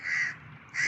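A crow caws twice near a fish market with nets, harsh rasping calls with a short gap between them, loud and close over low background rumble.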